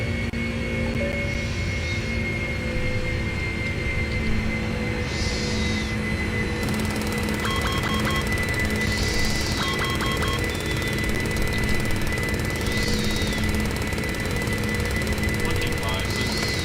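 Boeing 747 jet airliner taking off and climbing with a heavy load from a runway under 8,000 feet, heard as a steady, loud engine roar from inside the flight deck, with periodic cockpit tones and beeps.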